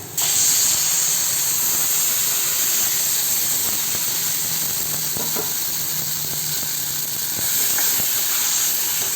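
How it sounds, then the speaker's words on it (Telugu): Hot tempering of mustard seeds and curry leaves hisses steadily as cooked gongura dal goes in, a broad close steamy sizzle with faint scraping and clinks and no talking. "ఇప్పుడు ఈ తాలింపులో ఈ గురగాకు పప్పుని వేస్తాం"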